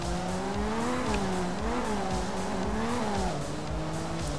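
A rally car in the Art of Rally video game slides under the handbrake, a steady engine drone with wavering pitch and gravelly tire skid noise throughout, loud and continuous with no talking.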